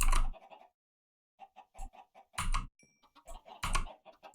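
Chickens in Minecraft clucking in short bursts, several separate choppy clucks close by with brief silences between them, no voices.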